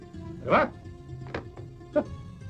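Dogs bark in a comedy film scene, three separate yaps, one strong bark followed by two shorter ones, at moderate distance in an indoor setting.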